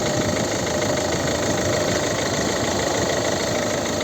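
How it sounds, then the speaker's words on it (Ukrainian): A 2008 Volvo V50 facelift with a 1.6 diesel engine idles steadily, a constant close diesel rumble with faint knocking texture and no voices. "Ось звук двигуна."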